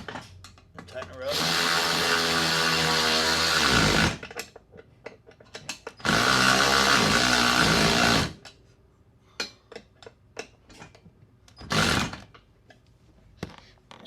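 Power drill tightening golf cart upgrade parts runs in two long steady bursts of a few seconds each, then a short third burst, with clicks and handling noise between.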